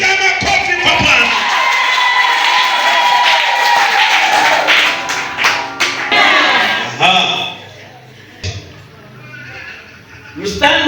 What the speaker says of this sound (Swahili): Piga makofi kwa Bwana.